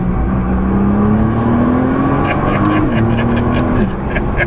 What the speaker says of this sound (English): Let me do a little paddle shifting here.